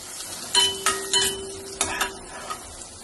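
Onions sauté quietly in a pan while a spoon stirs them, making a handful of short scrapes and clinks against the metal over a faint sizzle.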